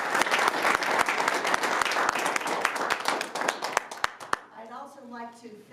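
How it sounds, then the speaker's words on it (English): Audience at a county public forum for New Mexico land commissioner candidates bursts into loud, steady applause with dense clapping, which fades out and gives way to a voice speaking at the end. "applause"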